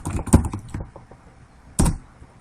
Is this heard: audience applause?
no